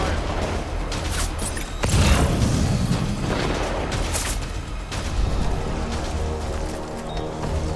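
Gunfire and explosions in the video game Death Stranding, with dense booms and bursts layered into continuous combat noise, a heavier blast near the start and steady firing throughout, with shouted voices mixed in.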